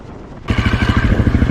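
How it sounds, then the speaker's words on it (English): Enduro motorcycle on a Motoz Tractionator tyre, ridden by a heavy rider, fighting for traction on a hilly track: a loud, close engine revs up sharply into a pulsing, throbbing roar. "I'm fighting for traction. The bike is going across the track big time"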